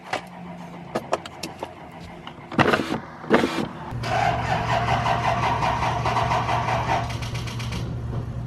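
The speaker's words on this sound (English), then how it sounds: "Typical Ford, doesn't want to start." A Ford diesel pickup truck running on winter blend diesel: a few clicks and two short bursts of starter cranking, then the engine catches and settles into a steady, rattling idle, heard up close.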